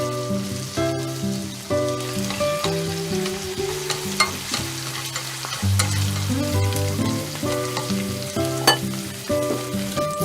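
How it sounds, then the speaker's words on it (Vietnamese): Marinated minced pork stir-fried in a pan, a steady close sizzle broken by scraping and clattering stirring strokes throughout. "Xào cho đến khi thịt nó săn lại"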